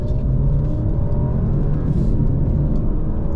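An Alfa Romeo Giulia Veloce accelerating on an open road, heard from inside as a loud, steady engine rumble with rising harmonic tones throughout and no talk.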